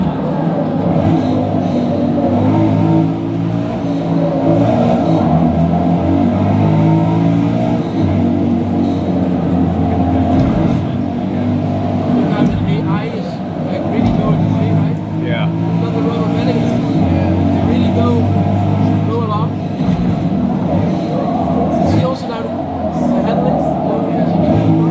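A race car engine roars continuously in Forza Motorsport, a loud steady drone with shifting revs through corners, playing alone at close range for the full stretch.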